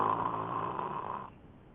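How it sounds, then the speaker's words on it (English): Simulated snoring played from a snoring app, a single soft, drawn-out rasping breath lasting under two seconds, faint and on its own. "Stop snoring, honey."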